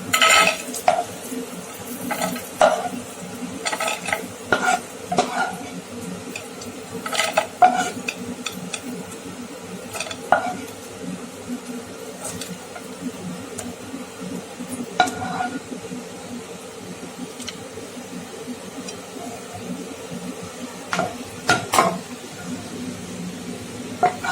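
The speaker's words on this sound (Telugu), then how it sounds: "సో అందులోకి పప్పులను వేసుకుని వేయించుకోవాలి." Dals frying in a pan for pumpkin halwa, with steady low sizzle and repeated scraping stirs and spoon clinks against the pan, close and continuous throughout.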